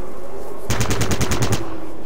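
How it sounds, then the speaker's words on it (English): Automatic gunfire from the video game Fallout Tactics: a loud close burst of about eight rapid shots after a moment of quiet, ending abruptly. "All those bullets, and they all miss."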